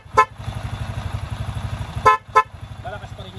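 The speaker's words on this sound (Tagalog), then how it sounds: "Testing din natin yung ating horn." A motorcycle idles with a steady putter, and its horn sounds three times: one short beep, then two quick beeps close together, loud and near.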